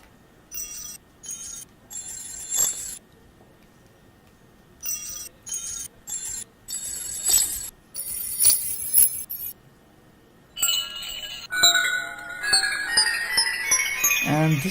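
Sampled software instrument in Ableton playing a little scale as bright bell-like struck notes, single tones separated by pauses and then a faster run of ringing notes at the end, with no talk.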